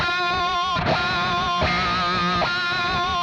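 A distorted electric guitar screams with pinch harmonics shaken by wide vibrato, wavering squeals sustained over roughly three seconds, loud and alone.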